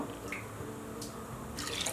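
Water from a cup splashes and trickles onto soaked horse gram in a cooking vessel, a close, steady pour with a few brighter drips.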